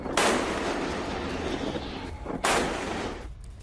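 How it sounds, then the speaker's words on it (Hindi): Gunfire from a US warship at an Iranian vessel near Hormuz, two loud broadband blasts about two seconds apart, each with a long rumbling decay. "वीडियो में ईरानी जहाज पर फायरिंग की आवाज सुनी जा सकती है और अमेरिकी जहाज से कई राउंड फायरिंग हुई है।"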